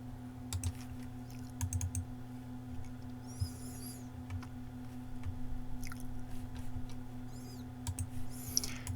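Computer keys are tapped in short bursts while working in AutoCAD, soft near clicks set over a steady electrical hum, with no talking.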